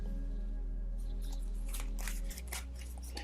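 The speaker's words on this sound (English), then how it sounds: "I want to pull out 2 more cards just to clarify." A deck of tarot cards is shuffled and cards are pulled out, giving a close, crisp riffle and flicking of cards that grows busier in the second half, with no talking.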